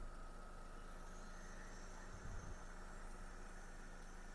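A 2006 Mercedes W211 1.8-litre supercharged engine idles steadily with a low, even hum and faint mechanical ticking, broken by a brief thump near the middle.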